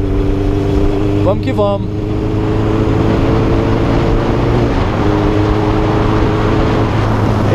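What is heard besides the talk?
Honda Hornet motorcycle engine revving at high rpm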